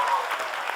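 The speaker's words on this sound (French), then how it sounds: "On applaudit." Brief burst of audience applause at a live café-style cultural talk show with the Minister of Culture, a short, even wash of clapping from a warm crowd.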